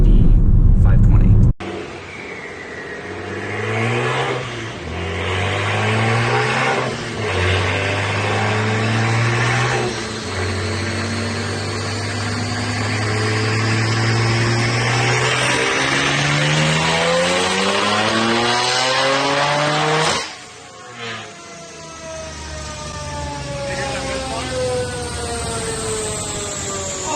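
A BMW 335i with stage 3 turbos accelerates hard through several gears, each loud rising rev cut by a shift. It lifts off near the end, then climbs again, heard from close by.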